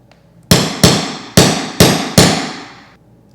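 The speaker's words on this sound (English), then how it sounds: "finish it up with a couple whacks from the nail set." Five loud, evenly spaced hammer strikes on a metal nail set, sinking a nail into baseboard trim, each a sharp crack with a ringing decay, close and alone.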